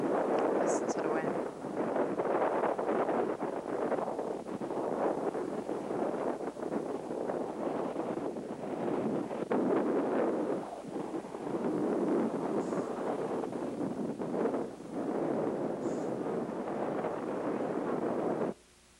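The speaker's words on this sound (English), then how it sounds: "Listen to the wind." Strong outdoor wind roars and buffets the microphone in a continuous loud rush with gusty swells, and a person talks over it.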